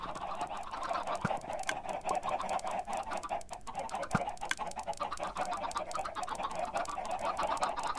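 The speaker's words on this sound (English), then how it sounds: "Chickens, and they're dying, and they're giving me their cooked chicken and a lot of feathers." Minecraft chickens clucking in a survival game, a steady busy stream of game sounds with a few sharp clicks, no talking.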